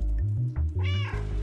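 A cat in the PS5 video game Stray gives a clear, close meow, a drawn-out rising and falling call sounding alone.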